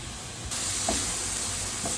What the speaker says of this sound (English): And add in the chili peppers.